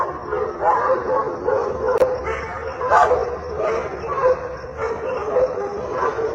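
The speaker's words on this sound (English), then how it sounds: "he heard the dogs in the area barking and howling incessantly" Several dogs in a neighbourhood at night barking, yipping and howling without letup, somewhat distant and layered together in a continuous noisy chorus.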